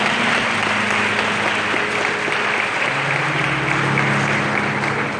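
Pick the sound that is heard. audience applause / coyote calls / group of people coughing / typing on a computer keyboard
audience applause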